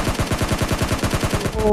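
Rapid automatic gunfire in the mobile battle royale game PUBG Mobile Lite, a fast, even burst of about a dozen loud shots in quick succession, followed by a short electronic tone.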